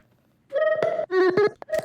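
A Moog synth part processed with OTT compression plays a few short, bright, tightly compressed melodic notes, close and dry, with no talk.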